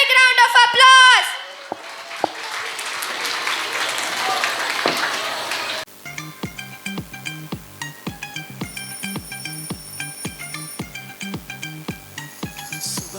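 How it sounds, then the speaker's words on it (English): Audience at a kindergarten performance during a school's annual prize distribution claps in a burst of applause that fades, then a rhythmic song with steady beats begins and plays over the remaining seconds. "Let's welcome them with a big round of applause."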